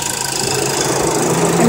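A 2015 Honda Fit engine idles steadily under an open hood, still hot from a drive, giving a continuous close, loud mechanical hum with a faint ticking knock and no talk.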